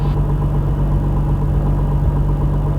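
Constant loud drone of a Piper Comanche 250 engine held at 2,500 RPM in a cruise climb, a steady low rumble with a fixed tone heard from inside the cabin, no talking.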